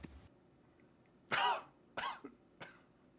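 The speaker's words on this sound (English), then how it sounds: "He responds with a labored cough." Three harsh, strained coughs in a row, the first loudest and longest, followed by two shorter ones, close up against a quiet background.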